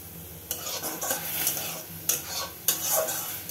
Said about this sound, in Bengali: ভালো করে মশলাটাকে আমি ভেজে নেব